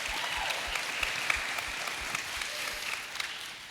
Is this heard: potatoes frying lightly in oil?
no